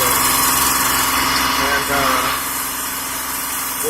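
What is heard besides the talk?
2005 Kia Sorento engine lifter tapping when revved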